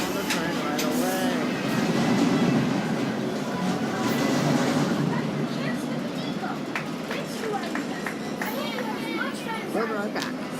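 Theme park train ride at Ghost Town Alive: a steady rolling rumble of the train carries throughout, with people talking over it and faint squeaks and rattles mixed in.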